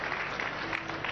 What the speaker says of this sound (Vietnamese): Hãy vỗ tay cho Chúa Giêsu Christ chúng ta.